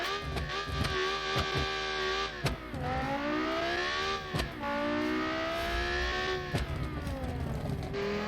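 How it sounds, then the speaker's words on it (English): A 754-horsepower naturally aspirated V10 race car engine in a racing video game screams through repeated rising revs, with brief dips between pulls, loud and close. "754 horsepower, naturally aspirated V10."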